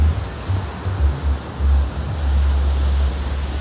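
Ocean waves wash onto a sandy shore in a steady sea breeze, a broad continuous rush with heavy wind buffeting the microphone in low gusts, and no voices.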